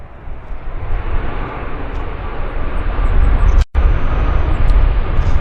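An airplane landing at Vancouver airport YVR gives a loud, steady roar of engine and rushing noise, with a brief dropout near the end.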